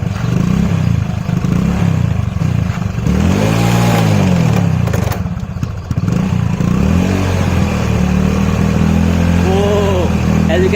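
Small electric motor driving a wheel, run from a power source in short circuit current mode, heard as a steady whirring hum that keeps going throughout while people talk loudly over it close by.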